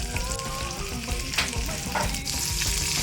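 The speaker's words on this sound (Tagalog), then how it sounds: "Halu-haluin lang natin yan, no? Para hindi rin masunog." Beef or chicken liver sizzles loudly in a hot pan alongside bitter gourd and egg, with steady frying crackle and intermittent scraping of a spatula stirring throughout.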